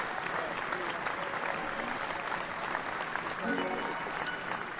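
A crowd claps steadily through the whole stretch, a dense even patter with a few voices mixed faintly underneath.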